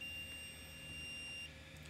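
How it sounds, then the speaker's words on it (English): An Auber WiFi BBQ controller on a Weber Smokey Mountain smoker sounds its low pit temperature alarm: a thin, steady high electronic beep tone holds for about a second and a half, then cuts off, over a low background hum. "we set our pit low temperature alarm to 200 degrees and it has dropped below that"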